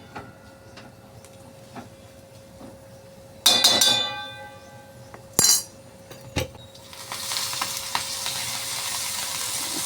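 Okra fries in oil in a pan with a faint steady sizzle, broken by a few sharp clanks and scrapes of a utensil against the pan; the sizzling swells louder and more crackly toward the end.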